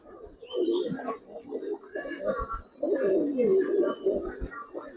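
Boyel (bowel) pigeons at a loft, a pair of paper-eyed birds, cooing in soft repeated murmurs close by, with nearby voices talking over the calls throughout.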